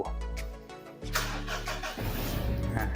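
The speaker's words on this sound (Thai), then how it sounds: "เดี๋ยวจะลอง สตาร์ทเครื่องนะครับ ฟังเสียงกันดู" A Mitsubishi Triton Plus 2.5 diesel pickup engine cranks briefly, then catches and settles into a rough, steady idle close by, with a low rumbling hum.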